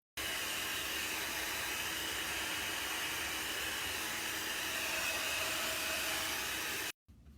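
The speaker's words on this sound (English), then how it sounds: "So let's get the paint dryer" A hot-air paint dryer blows with a loud, steady whooshing roar for several seconds, then cuts off abruptly.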